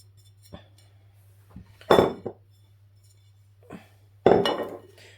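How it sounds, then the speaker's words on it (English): Dry spices for a pulled pork rub being stirred together in a bowl, two bursts of scraping and clinking of utensil against the bowl, close and fairly loud, with a low steady hum beneath and quiet gaps between. "So I'm just going to mix all these spices together."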